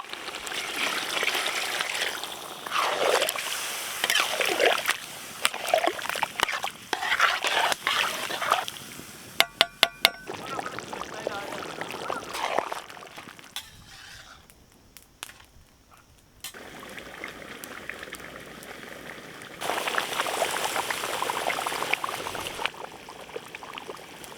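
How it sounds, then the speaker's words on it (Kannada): Water is poured into a village-style pork kurma as the meat cooks: a steady trickling, splashing pour that keeps running for long stretches and is broken by brief clatters and a short quiet gap. "ಹಂದಿ ಬಾಡ್ ಬೇಯಕ್ಕೆ ನೀರು"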